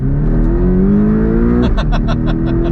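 A Porsche engine drones steadily with a rising pitch, then drops as a gear change comes in, followed by a run of rhythmic, close, pulsing bursts.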